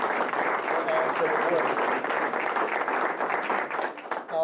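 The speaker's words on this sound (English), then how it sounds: "let's have a little round of applause" Audience applause after a request for a round of applause at a candidates' forum hosted by All Aboard Erie and Bike Erie, a steady wash of clapping lasting several seconds with a voice speaking over it.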